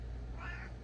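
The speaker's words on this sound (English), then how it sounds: "Oh, what a good cat." A house cat gives a single short meow, close and clear, over a low background hum.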